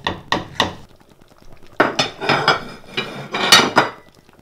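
Clattering utensils and dishware while Jamaican-style chicken soup is plated: a few quick taps, then a busy run of scraping, knocking clinks close by, with no talking.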